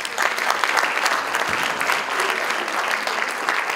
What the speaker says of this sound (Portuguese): Professor João Paulo Cardiales, uma salva de palmas também